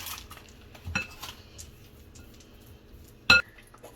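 A utensil scoops cream cheese for a carrot cake frosting in a quiet kitchen, soft scraping punctuated by two sharp clinks against a bowl, the second louder, near the end.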